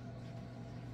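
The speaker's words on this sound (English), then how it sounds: "Maybe it's because my dishwasher's running." A household dishwasher runs in the background, giving a faint, steady low hum with a soft wash of noise that holds unchanged throughout, with no voices.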